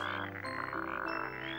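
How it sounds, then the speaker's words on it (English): A chorus of frogs and toads croaking steadily in a swamp at night, dense overlapping pulsing calls and trills filling the whole stretch, layered with a thick sustained musical backing. "All the other frogs and toads joined in, croaking and croaking all night long."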